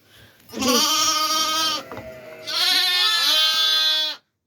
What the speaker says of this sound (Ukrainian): тут романівські вівці от кохані